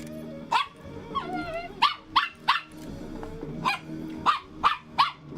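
A small dog named Ted barks in short, sharp yips, about nine distinct barks in an irregular run with brief whimpering tones between them, close and fairly loud over a low background hum.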